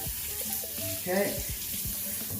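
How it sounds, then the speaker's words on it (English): During a wet shave, water from the tap runs into the sink and splashes as the face is rinsed. It is a short, close, steady hiss with a few gurgles and no talking. "wash it off. I'm gonna get my face wet."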